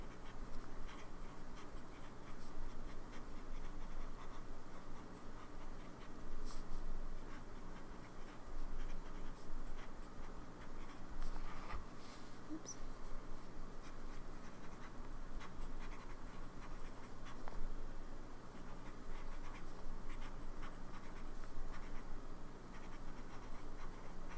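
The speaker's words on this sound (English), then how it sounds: "The pen feels nice on the paper" Fountain pen nib gliding and scratching across paper, writing with Robert Oster x Pen Addict Fire on Fire orange ink; a close, soft, continuous scratchy rustle with small strokes and faint taps, no talking.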